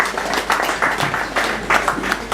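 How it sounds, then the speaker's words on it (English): A lecture hall audience claps together after a talk, a broad continuous patter of many hands with irregular surges, fairly loud and close, with no clear talk over it. "Another round of applause for Professor Luke."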